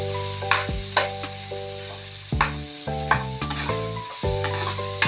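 Garlic and onions sautéing in a pan for Filipino ginisang gulay, a steady sizzle with scattered stirring clatters, mostly under background music.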